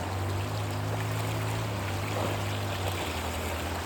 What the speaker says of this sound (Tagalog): Ang ganda ng agos, pare.